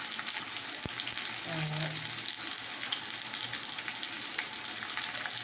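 Potatoes frying in hot oil with bay leaf and turmeric, a continuous close sizzle and crackle with a soft clink of utensils near the middle, alone without speech.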